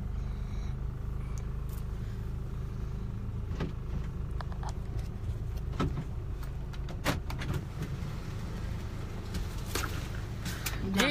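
Car interior while driving in traffic, with steady low engine and road rumble throughout, plus occasional clicks and small knocks from inside the cabin.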